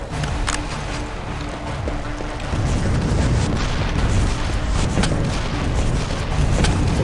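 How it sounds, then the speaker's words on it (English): Continuous rocket launcher blasts and explosions in the arena shooter Quake 3 Team Arena form a dense, loud barrage that thickens partway through, with rapid overlapping booms and impacts throughout. "He's like hardballing on that rocket launcher"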